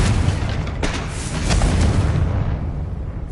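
A Confringo fire spell explodes in Hogwarts Legacy with a loud, deep booming burst, followed by a rumbling roar that fades out over about three seconds.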